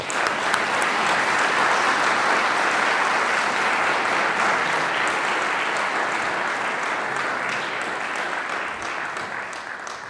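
A lecture audience at a physics lecture gives sustained, dense clapping that fills the hall, holding steady for about ten seconds before tapering slightly.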